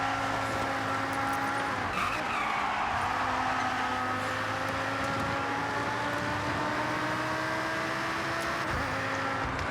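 Drifting car in the Forza Horizon 6 racing game, a steady engine drone with sustained tire squeal and skidding running continuously throughout, loud and close, with no voices.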